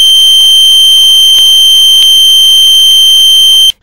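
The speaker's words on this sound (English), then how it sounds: "buzzer stops" Railway station train arrival buzzer sounding continuously, a loud, steady electronic tone held for several seconds before cutting off abruptly.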